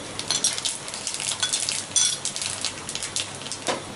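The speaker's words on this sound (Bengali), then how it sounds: "মরিচটা একটু ভাজা হলে কালো জিরে ফোড়ন দিয়ে নিচ্ছি" Dried red chilies and nigella seeds frying in hot oil for a hilsa fish curry, a close, steady crackling sizzle with sharp spitting pops throughout, no voices.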